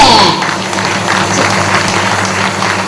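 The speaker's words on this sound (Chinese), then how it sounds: "掌声鼓励，谢谢" A crowd at a company's 20th anniversary award ceremony applauds, a dense, continuous patter of clapping held at steady volume throughout, with a brief voice at the very start.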